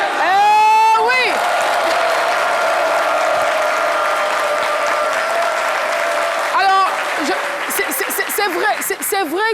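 Studio audience at a French midday TV talk show cheering, whooping and applauding loudly and continuously, with shouts rising at the start and again near the end, plus occasional talk over the crowd.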